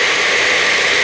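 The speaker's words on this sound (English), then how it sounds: "pardon the noise, but you know, you got to make noise to do smoothies." A blender whirs loudly and steadily while making a smoothie with raw almonds, a close, constant high-pitched motor roar filling the short moment.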